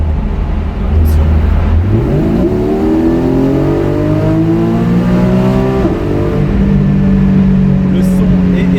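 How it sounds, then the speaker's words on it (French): A flat-six supercar engine revs up in a small tunnel, its pitch climbing in steps through gears before easing and holding a steady drone, loud and close, with a voice speaking over it. "je vais te faire écouter le son du Flat 6"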